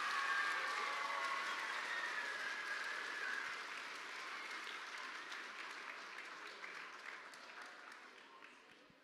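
An audience at a fifth-grade DARE graduation ceremony applauds a student, a steady wash of clapping that gradually fades toward the end.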